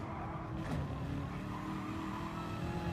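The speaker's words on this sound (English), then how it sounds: "Using that engine to slow the car down." A GT3 race car in a racing video game at Autopolis, its engine droning steadily as it brakes on the engine, with a faint tire squeal near the start.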